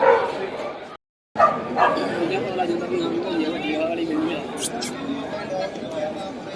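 At a large dog show in Jalandhar, Punjab, dogs bark and yip amid a busy crowd, with people talking over and between the barks and a brief cut to silence near the start.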